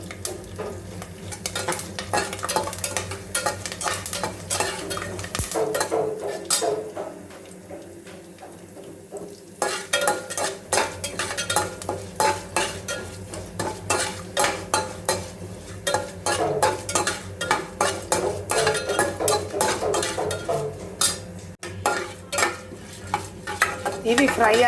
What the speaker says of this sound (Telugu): ఇవి మంచిగా ఫ్రై చేసుకోవాలి. ఇలాగ ఫ్రై చేసుకోవాలి.